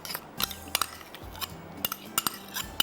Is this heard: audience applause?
no